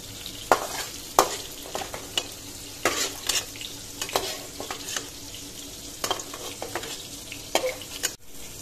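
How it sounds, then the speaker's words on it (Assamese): Nigella seeds and a dried red chilli frying in hot oil in a pan, with a steady sizzle under repeated scraping strokes of a spoon stirring them, fairly close and with no talking. "ইয়াতে এতিয়া কালজিৰা দিছোঁ দুটামান আৰু শুকান জলকীয়া এটা এইখিনি অলপ লৰাই দিলোঁ"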